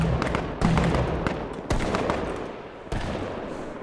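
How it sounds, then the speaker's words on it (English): A shotgun fires in H1Z1 with three or four sharp, heavy blasts spaced about a second apart, each followed by a decaying tail, with no talking. "Someone's got a shotgun over here."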